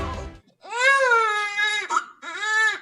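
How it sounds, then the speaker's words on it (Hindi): An infant wails loudly and close by in two long, rising, tearful cries split by a brief catch of breath, with no other voices over it. "आसपास के लोगों ने बच्चे की रोने की आवाज सुनी"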